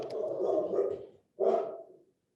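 Dogs bark indoors in two short, close bursts separated by a brief pause, loud and alone without talk.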